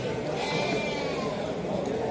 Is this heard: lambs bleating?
yes